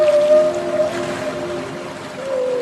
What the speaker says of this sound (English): This is the song of the humpback whale.